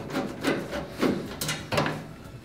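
A large Torx screwdriver backs out screws on a washing machine during a door seal replacement, giving several short, close creaking turns with small pauses between them.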